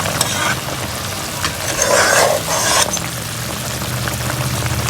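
Chicken karahi sizzles loudly in hot oil as a spatula stirs it, a steady, close frying hiss that swells briefly into a harsher scrape and crackle before settling back.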